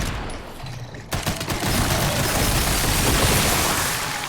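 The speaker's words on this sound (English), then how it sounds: "Just gonna throw a grenade over there." Dense, loud gunfire and a blast erupt in a video game after a quiet first second, with sustained rattling fire that continues to the end.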